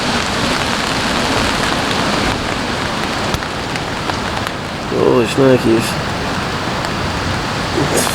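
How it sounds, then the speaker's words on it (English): Strong wind roars steadily across an open campsite on an abandoned urban golf course with light rain falling, a dense broadband rush, while a person briefly exclaims over it midway. "it is super freaking windy. I wonder if you guys can hear that, and it's lightly raining."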